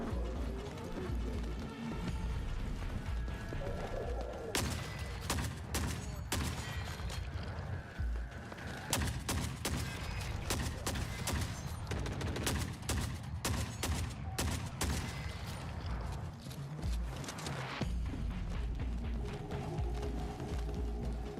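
Gunfire from the shooter game The Forever Winter, with rapid bursts and sharp single shots cracking over a dense backdrop of mechanical clanks and rumbling battle noise that continues without pause.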